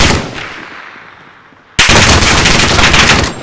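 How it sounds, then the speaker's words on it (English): Sustained automatic gunfire erupts loud and close in Call of Duty Warzone on Rebirth Island, a dense rapid burst following a quieter stretch of distant battle ambience, with no talking. "I'm under fire."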